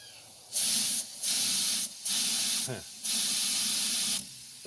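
Air hisses out of a leaking tire valve stem on a 1971 Mopar, a loud, steady broadband rush in four long bursts with short gaps between, close to the listener, and no talk over it.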